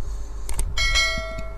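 Notification bell sound effect prompting viewers to subscribe: a few bright chime strikes in quick succession, ringing clearly over a low background.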